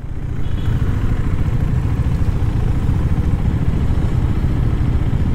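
A KTM motorcycle engine idles with its exhaust burbling, a loud, steady, close low-pitched chug that runs without a break and without voices.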